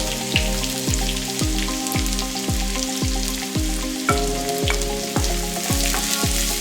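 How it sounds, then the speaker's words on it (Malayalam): Chopped onions hit hot oil with browned ginger in a pan for a Kerala mango curry, giving a loud, steady frying sizzle with a regular run of sharp stirring scrapes and clacks throughout, no voices. "മൂത്ത് കഴിഞ്ഞതിന് ശേഷം നമ്മൾ അരിഞ്ഞു വെച്ചിരിക്കുന്ന സവാള അതിലേക്ക് ചേർക്കാവുന്നതാണ്."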